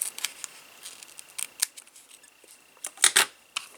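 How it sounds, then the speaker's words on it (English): Scissors trim the edge of packing tape on a dollhouse-miniature three-ring binder, a few faint, crisp snips and small rustles close up in a quiet room. "So you just trim the edge neatly"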